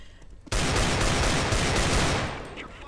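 Heavy gunfire erupts in the video game CS:GO after a brief quiet moment. Dense, rapid shots sound close and loud, then ease off slightly toward the end.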